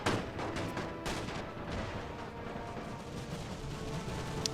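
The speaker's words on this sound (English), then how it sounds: "Oh, this unit has started to firing back." Gunfire from units in The Great War strategy game, a dense, continuous rumble of distant rifle and artillery shots with scattered sharper cracks near the start.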